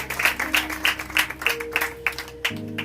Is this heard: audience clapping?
yes